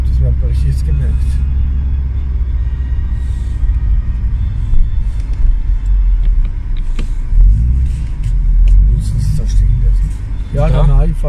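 A car engine rumbles steadily while driving uphill at night near Gamburg castle in Werbach, with low road noise throughout and people talking over it.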